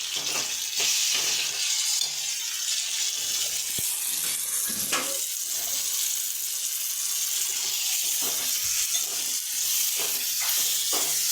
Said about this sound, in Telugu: ఇప్పుడు ఇందులో ఈ మటన్ వేసుకుందామండి.